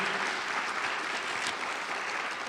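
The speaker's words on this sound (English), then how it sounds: "I'd like to ask for a round of applause" Audience applauding at the Queens College, CUNY State of the College Address, a dense, even wash of clapping from a large crowd that holds steady throughout.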